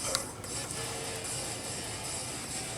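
Smooth, even whirring hum of a Singer 201-2 sewing machine running steadily, a close, continuous mechanical drone with faint regular ticking and no voices.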